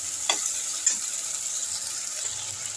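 Potatoes frying with spice paste in a pan give a steady close sizzle, broken by a couple of sharp stirring scrapes near the start.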